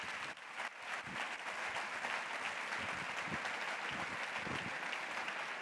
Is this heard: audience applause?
yes